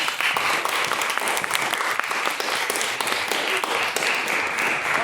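Audience applause for a maiden speaker at a formal debate, dense continuous clapping from a large crowd, loud and steady throughout the five seconds without any speech on top.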